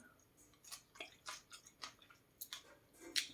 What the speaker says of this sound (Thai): มันก็ต้องเคี้ยวหน่อยเนาะ แต่ว่า ตรงนี้มันกรอบอร่อย ตรงหัวมันอะ